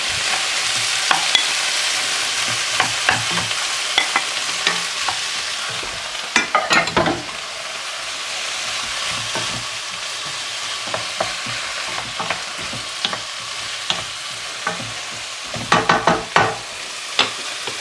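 Steak frying in a pan with softened vegetables for a steak and Guinness pie, a steady sizzle broken by repeated scraping stirs, some quick clusters of clatter, close and moderately loud with no talking.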